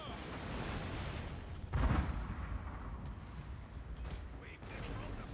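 Booming cannon fire in the strategy game Dawn of Democracy, one loud broadband blast near the two-second mark and fainter shots later, over a constant rumbling battle bed.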